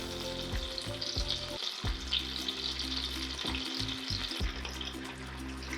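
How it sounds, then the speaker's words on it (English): Cooked beans drop into hot oil for refried beans, giving a loud, close, bubbling sizzle with stirring scrapes and a brief splash of liquid. "The beans, I'm gonna add them into the oil."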